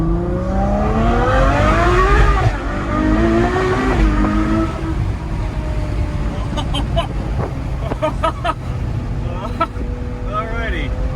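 A Ferrari 812 Superfast V12 engine revving hard and climbing through rising pitch sweeps, loud and close from inside the car, then easing off to a lower drone with brief sharp chirps.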